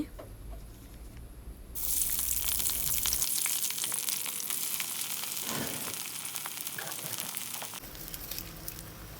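Chopped onion dropped into hot mustard oil in a kadai bursts into a loud, steady sizzle partway through, a broad hiss that runs on with a few scrapes and clicks of stirring.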